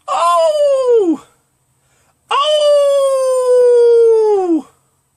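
A man imitates a long, wolf-like howl with his voice: two sustained, wavering calls, the first about a second long and the second stretching over two seconds, separated by a brief silence.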